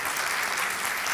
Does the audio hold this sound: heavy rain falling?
no